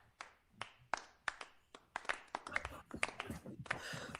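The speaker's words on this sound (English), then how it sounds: "Weak clapping." Sparse, weak clapping from a small group: a handful of slow, separate hand claps that grow slightly busier and overlapping toward the end, fairly close and not very loud.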